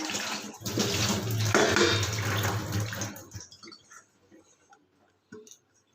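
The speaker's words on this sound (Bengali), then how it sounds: "যখন মতি খাঁচায় ঢোকে তারপরে ভালো করে ওয়াশ করে নিই" Running water splashes loudly while a rabbit's water bowl is washed, a steady rushing flow that cuts off after about three seconds, followed by quiet clinks and a few soft knocks.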